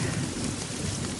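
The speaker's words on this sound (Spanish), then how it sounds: "Y de la nada se larga a llover." Heavy rain pours in a forest at night, a dense continuous roar with deep thunder rumbling underneath, loud and close throughout.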